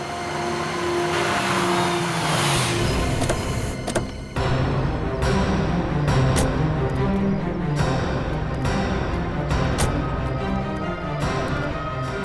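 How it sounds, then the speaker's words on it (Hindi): A car driving and then stopping, a loud engine revving close by that drops away, followed by a steady idling rumble with some tapping clicks. "बस आप यहीं गाड़ी रोक लीजिए।"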